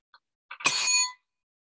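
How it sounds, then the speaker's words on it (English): A small hand bell rings once to open a lecture: a bright, clear metallic tone with a ringing overtone that decays over about half a second, heard alone after a couple of faint taps. "you'll hear a bell ring, and that will be the beginning of the lecture"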